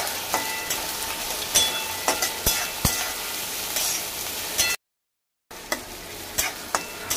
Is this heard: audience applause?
no